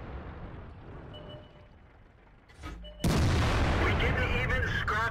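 Tank cannon fire from a T110E5 in World of Tanks, a sudden loud booming blast after a quieter rumbling lead-in, followed by a sustained roaring decay.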